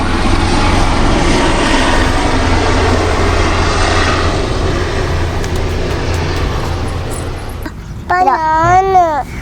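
Over a field where children plant saplings, a helicopter drones loudly overhead, its rotor and engine noise holding steady and then fading as it moves off, followed by children talking.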